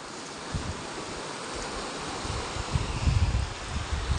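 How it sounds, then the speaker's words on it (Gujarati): Sea waves wash against the rocky shore by the Ratneshwar Mahadev temple, a steady broadband surge with wind mixed in, swelling louder toward the end, with no voices. "દરિયો"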